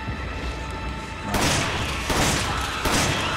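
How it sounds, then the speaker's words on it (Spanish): Gunfire in the video game Resident Evil 5 on Nintendo Switch rings out as three heavy booming shots about a second apart over loud, dense game noise. "Con tres disparos caen."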